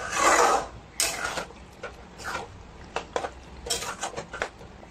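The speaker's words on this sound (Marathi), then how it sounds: "आता परत एकदा आपण ह्याला मिक्स करून घेऊया।" A spoon stirs chicken and onions cooked in mustard oil inside a pot, making irregular metallic scrapes and clinks against the pan, louder at the start, then lighter and more scattered.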